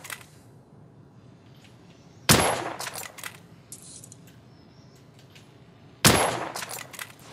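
Two sharp, loud gunshots from a weapon being test-fired in The Order: 1886, each with a ringing metallic tail and clinking, spaced several seconds apart over a quiet room.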